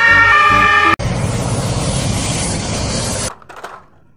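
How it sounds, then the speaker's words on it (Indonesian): Toy ambulance siren wailing loudly with a clear tonal pattern, then a steady loud electronic rush of siren and engine effects for about two seconds before cutting off abruptly. "Wah, kalau yang ini ambulans."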